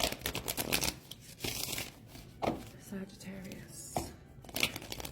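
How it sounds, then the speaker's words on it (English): Tarot cards are shuffled and riffled by hand in bursts of crisp flutters and soft slaps, close up, with a voice speaking intermittently between them. "Shuffle these."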